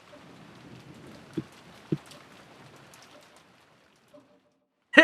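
Soft patter of rain in Umineko When They Cry fades out gradually, with a few sharp drips and knocks, the last one loud at the end.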